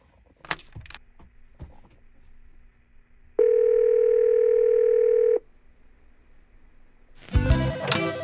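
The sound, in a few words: telephone dial tone on speakerphone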